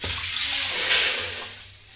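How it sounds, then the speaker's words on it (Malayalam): Green gram lentils are rinsed with water in an aluminium vessel before going into a pressure cooker. Steady splashing and running water sounds continuously and close, with no talk over it. "ഇനി നമുക്ക് ഈ പയറൊന്ന് കഴുകി കുക്കറിനകത്ത്"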